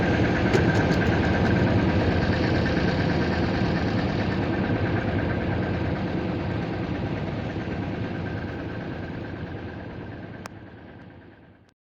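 Launch boat engine running on a waterway, a steady droning hum that stays loud and even before fading out at the very end.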